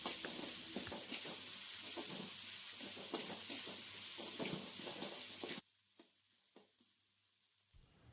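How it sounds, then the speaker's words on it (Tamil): Onions and two tomatoes sautéing in oil for a Chettinad prawn gravy, a loud steady sizzle with spatula scrapes that drops abruptly to quiet, leaving only a few faint clinks of stirring. "எல்லாத்தையும் நல்லா வதக்கிடுவோம்."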